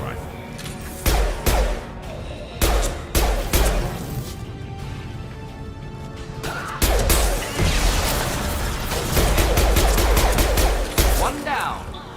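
Rifle gunfire in the video game Mass Effect 2 arrives as loud, sharp cracks, both single shots and rapid bursts, with crashing impacts and game effects between them.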